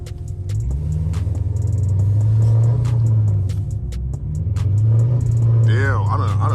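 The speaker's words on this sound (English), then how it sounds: "Damn, if I could stop, I'll do a burnout" A Dodge Charger engine rumbling and revving in snow, a loud low drone rising and falling close by, someone talking over it, and a brief whirring rise near the end.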